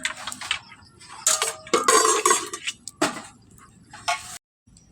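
A metal cooking pot lid is handled with tongs while making homemade rasmalai, giving several bright clinks and clatters in irregular bursts, close and fairly loud.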